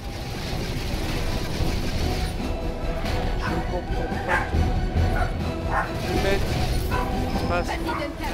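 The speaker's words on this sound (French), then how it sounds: "Interrompu par les bébés chiens." Puppies barking in the action game ReCore, a run of quick yips and bow-wows mixed into loud game ambience, with someone talking over them.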